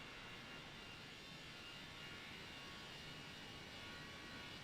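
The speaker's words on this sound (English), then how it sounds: "I'm sure we're going to see a plane take off." Airplane engine noise at NZCH airport in a flight simulator game, a steady, even jet whine and roar held at constant level, moderately distant and faint, with no talk.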